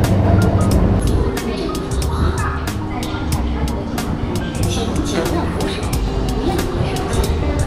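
A driverless Shanghai Metro Line 10 train running, heard from the rear car as a steady, loud, close rumble with rattling and repeated sharp clicks throughout.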